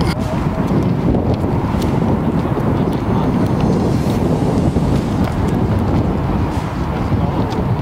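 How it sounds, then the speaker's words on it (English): Strong wind roars steadily into the microphone outdoors near escalators at large abandoned echo domes, a continuous dense rush of buffeting noise that never lets up. "That wind is strong."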